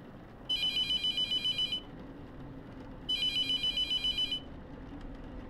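Telephone ringing in the video game The Mortuary Assistant: two bursts of rapid electronic trilling bells, each about a second long, separated by a pause over a dim low background.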